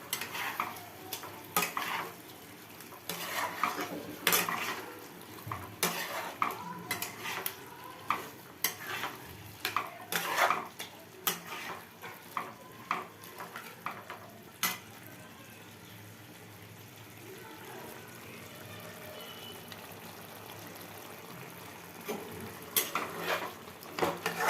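Food sautéing in a pan with a metal spoon scraping and stirring repeatedly, soft sizzling underneath, close and fairly quiet, the clatter coming in irregular bursts with a calmer sizzling stretch near the end.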